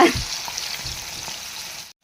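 Bangda (mackerel) fish fry in oil in a pan, North Karnataka style, with a steady close sizzle and crackle that cuts off abruptly at the end.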